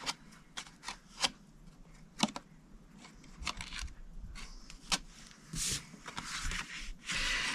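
Scissors snip through cardstock at a score line in short, crisp cuts, a series of close, quiet clicks and rustles of paper handling.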